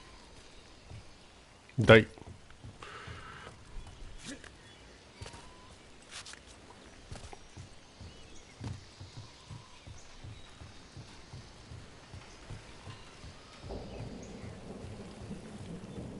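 Rain falls steadily in a video game, a soft hiss under an unsettled soundscape. A sharp, loud thunder crack comes early, a voice speaks briefly, and scattered thuds and knocks follow.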